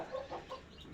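Several chickens raised on a house rooftop cluck in soft, irregular bursts at moderate distance, with no talking over them.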